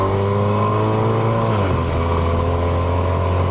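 A Mercedes-Benz A180 W176 with a 122 hp engine and seven-speed dual-clutch gearbox accelerates hard in Sport Mode, its steady engine drone rising in pitch before dropping with a gear change and continuing loud and close.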